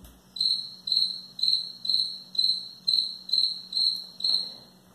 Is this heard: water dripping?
no